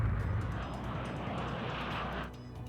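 The twin turbine jet engines of an F-4 Phantom run during a test, a steady, broad roar with a high whine on top, loud and continuous, easing slightly near the end, with no talking.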